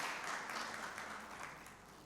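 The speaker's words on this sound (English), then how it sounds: "a round of applause for all our panelists" A panel-discussion audience applauds the panelists, a dense, fairly distant wash of clapping that holds steady for about two seconds and tapers slightly at the end.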